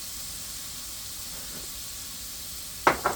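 A keto burgerdilla sizzles steadily in a frying pan, a soft continuous hiss of frying that holds at low level throughout, ending with a couple of brief louder clatters.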